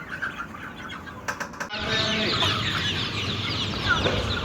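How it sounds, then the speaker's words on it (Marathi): Colourful desi (gavran) chickens cluck and flap their wings close by on a poultry farm, the flock noise rising sharply and continuing densely. "बघा किती सुंदर ब्रीड आहे रंगीबेरंगी पक्षी आहे"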